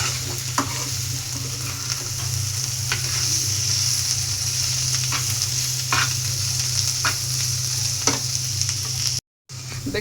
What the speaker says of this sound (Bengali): তারপর নেড়ে চেড়ে অনেকক্ষণ তেলের উপরে ভাজি করে লাল করে ফেলবো